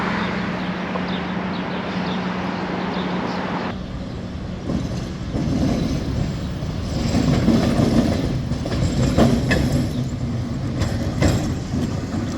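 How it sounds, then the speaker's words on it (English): The historic St. Charles line streetcar running through New Orleans heard from on board, with a steady rumble and wheel noise that grows louder and more rattling partway through, plus clicks and squeaks as it rolls along. "I'm riding the historic streetcar here in New Orleans. I'm on the famous St. Charles line."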